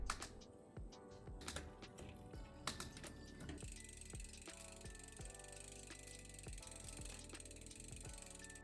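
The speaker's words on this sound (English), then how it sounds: "Now the last step is to make sure it shifts into every gear." A bicycle drivetrain is run through every gear after fresh chain lube, with rapid freewheel ratchet ticking, sharp clicks at each shift and a chain whirring steadily up close.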